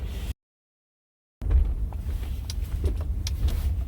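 Car driving, a steady low road and engine rumble inside the vehicle after a brief cut to silence, continuous and fairly close, with no talking.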